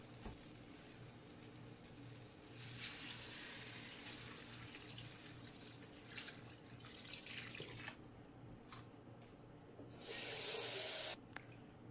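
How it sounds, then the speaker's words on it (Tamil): Water poured into a cooking pan while vegetables cook, a steady hissing splash with a louder, brighter pour near the end, close and alone with no talk. "நான் தண்ணி ஊற்ற போகிறேன்"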